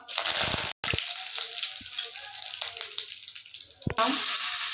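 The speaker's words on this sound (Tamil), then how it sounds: "கொஞ்சம் கடுகு போட்டுக்கலாம். கடுகு பொரிஞ்சிச்சு." Mustard seeds sizzle and crackle in hot oil, a close, busy spluttering with a brief gap near the start before it flares up loudly again.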